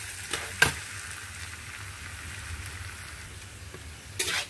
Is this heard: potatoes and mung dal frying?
yes